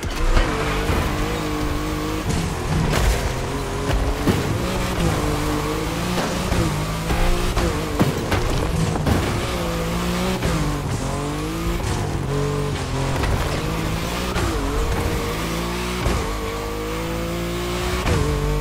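Car drifting in The Crew Motorfest, a revving engine that rises and falls steadily with squealing tyres sliding through turns, loud and close throughout without talk.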